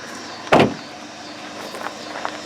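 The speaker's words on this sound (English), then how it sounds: "Auto down window." Power window on a 2016 Hyundai Elantra SE running auto down: a brief motor whir with a sharp onset at the start, then softer faint clicks and ticks in a quiet cabin.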